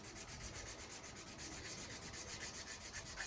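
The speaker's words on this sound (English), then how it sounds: "See, I wasn't going to sand there, bro, but I might as well sand down there" A shotgun is sanded by hand, with steady back-and-forth scraping strokes in a quick, even rhythm, close and continuous with no talking.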